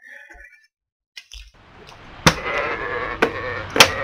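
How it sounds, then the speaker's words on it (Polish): Sheep bleat in the video game Arcania: Gothic 4 with several wavering cries over quiet ambient game sound, after a brief silent gap and a few soft clicks. "owce becza"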